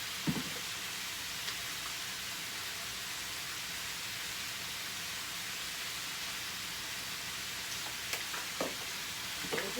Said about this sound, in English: let that simmer a little bit